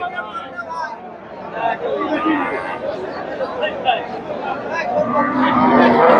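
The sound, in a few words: Friesian cow mooing at a cattle market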